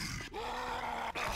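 A Tank zombie in Left 4 Dead 2 lets out a deep, drawn-out guttural growl, loud and close, lasting about a second and a half with a short break partway through.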